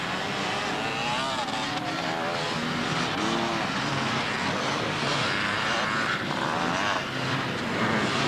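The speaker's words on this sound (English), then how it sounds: "Like a Suzuki RTL trail or trials bike going through" A Suzuki RTL trials motorbike roars past during a 1992 beach race at Southport, a loud, continuous engine drone that swells and fades slightly over several seconds.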